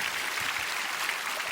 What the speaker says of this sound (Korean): 아마 이 방송 오늘 수능 보신 분들 한번 박수 한번 쳐주세요.